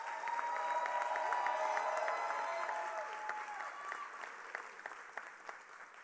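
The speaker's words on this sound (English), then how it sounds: "Please give Dr. Chambers a heartfelt round of applause." Audience gives a warm round of applause at a Kente celebration ceremony at Cheyney University, a steady dense clapping that stays full for several seconds and then thins toward the end, heard alone without talk.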